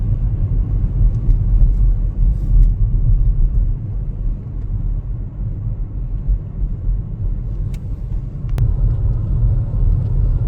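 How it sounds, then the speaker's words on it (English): A large garbage truck for recycling collection rumbles ahead on a snowy road during a whiteout blizzard in St. Paul, Minnesota, a steady low engine drone heard from inside a moving car, with faint brief clicks and no talk. "There's a garbage huge truck in front of me over there"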